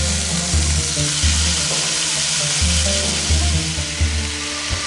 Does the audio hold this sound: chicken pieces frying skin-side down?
yes